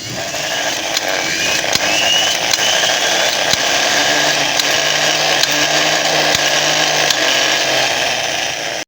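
Starter motor from a generator set running on batteries during a bench test, a loud steady whirring whine with small regular clicks, close by and without talk.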